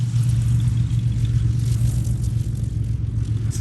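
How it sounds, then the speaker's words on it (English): The engine of a Cessna 210 aircraft drones steadily, a loud, continuous low hum with a constant pitch and no talk over it. "That's a Cessna 210."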